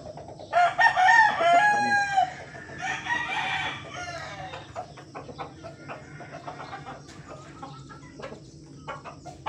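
A gamecock at a game farm lets out one loud, near crow early on, followed by quieter clucking and farmyard background.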